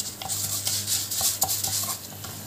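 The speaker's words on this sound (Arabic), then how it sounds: "احط فيها معلقه من الزيت واحط فيها معلقتين شعريه، هقلبهم لحد ما يبقى لونهم ذهبي" Vermicelli stirred with a spoon of oil in a pot on a stovetop until golden: a steady soft frying hiss with scattered scraping and clinking strokes against the pot, close and fairly quiet, no talking.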